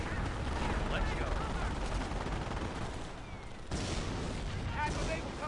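Gunfire in a WWII strategy video game crackles as a dense, steady barrage of rifle and machine-gun shots with distant booms, continuous throughout, with voices talking under the din.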